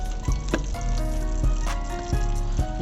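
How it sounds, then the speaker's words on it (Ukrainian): Water gurgles and splashes as it drains out of a Titan T-24 mini tractor, with rhythmic glugging pulses over the steady low hum of its nearby engine. "хай тече, хай зливається вода"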